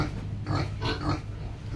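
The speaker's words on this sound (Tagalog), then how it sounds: "ito po yung ating mga baboy" Pigs on a backyard farm give low grunts and oinks in a few short bursts over a steady background, moderately close, no one speaking.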